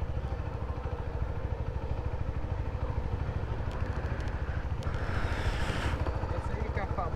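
Rented motorcycle used for Uber moto rides idling nearby, a steady rapid engine putter throughout, with people talking over it.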